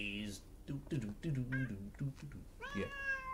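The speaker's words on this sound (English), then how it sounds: "And yes, Misty, I see you, kitties" House cats meow close by, a quick run of several short, insistent meows followed by a longer rising one, with no talking over them.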